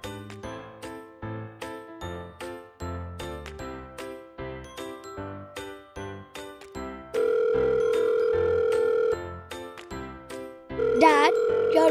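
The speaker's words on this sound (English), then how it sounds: "your mobile is ringing" A steady electronic ringtone tone sounds over a tinkling musical background, with a second burst of ringing near the end.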